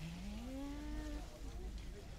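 A Wagyu cow gives one long, low, rising moo inside a cattle barn at a national wagyu show, close and clear over steady barn background noise.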